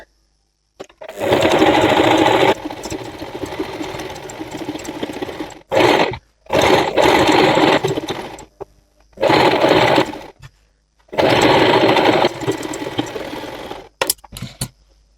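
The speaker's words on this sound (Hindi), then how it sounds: "यहाँ पर हम इसको डबल सिलाई कर लेते हैं।" A sewing machine double-stitches a seam on a ladies' trouser, running in loud, close bursts of rapid whirring that stop and restart several times, with brief pauses between runs.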